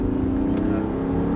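Audi R8 engine at full throttle, a loud steady droning roar held for a brief moment, close and unbroken.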